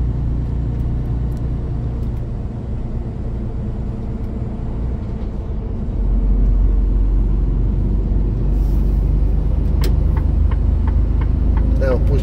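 Ferrari cars pass by on a road, heard from a vehicle as a rising engine rumble and road roar that builds partway through. Faint voices can be heard beneath the traffic noise.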